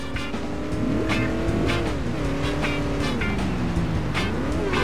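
A car driven in The Simpsons Hit & Run holds a steady engine drone that rises and falls with gear and speed changes, with brief tire squeals, loud and close throughout.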